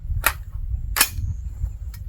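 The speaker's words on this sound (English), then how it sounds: "I just hope I hit it on the first shot." Three sharp, loud rifle reports from a .223 firing Hornady Critical Defense 73gr FTX rounds into ballistic gel outdoors, evenly spaced about a second apart over a steady low background rumble.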